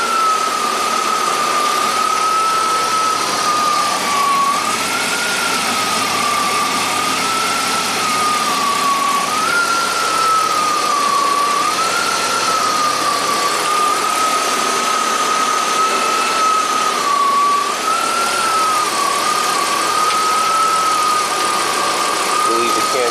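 The engine of a 1991 Audi 200 Quattro runs steadily with the newly fitted A/C compressor engaged, a constant mechanical hum topped by a thin whine that slowly wavers in pitch for over twenty seconds.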